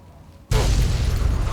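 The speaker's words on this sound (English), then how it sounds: "Oh, the car's going to blow up." In Fallout 3, a nuclear-powered car blows up after half a second of near quiet, a sudden loud boom followed by a sustained, rumbling roar.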